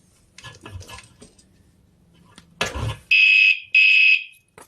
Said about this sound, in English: there you go. That's my new bike alarm.